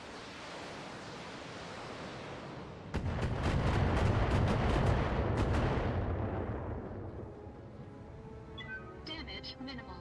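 Heavy weapon fire slams into a mech in the Battletech game: a loud, rumbling burst of impacts and blasts kicks in suddenly, with sharp crackling hits over a thick low roar, then fades into lighter scattered crackles.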